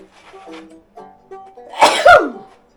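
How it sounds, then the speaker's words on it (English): A faint murmur of voices, then a single loud, close sneeze bursting out. "I'm gonna sneeze."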